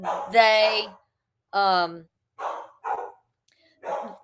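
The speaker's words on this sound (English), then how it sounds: "my dogs are barking" Several dogs bark indoors in a string of sharp, loud barks separated by short silences, close by.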